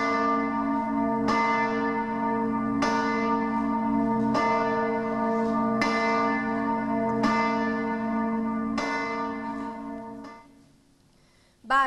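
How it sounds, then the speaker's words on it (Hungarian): Church bells toll loudly and close by, struck in a slow, steady rhythm of about one stroke every one and a half seconds, each ringing tone blooming and overlapping the last before the peals fade near the end. "Odakint kongtak a harangok."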